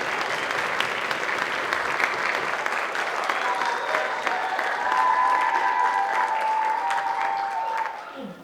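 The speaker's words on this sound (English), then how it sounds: "let me know by a round of applause." An audience at a play gives a sustained round of applause, dense clapping throughout that tapers off at the end.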